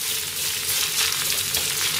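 Cabbage, bean sprouts and other vegetables being stir-fried in oil, a bright, steady sizzle and hiss held close and loud for a couple of seconds.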